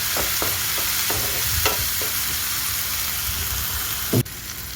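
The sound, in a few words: frying grated ginger and spices in a pan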